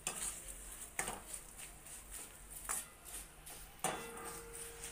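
A spoon stirs spices into a fried puffed rice snack in a pan, with soft rustling and sharp clinks of metal on the pan at irregular intervals, quiet and close, no talking.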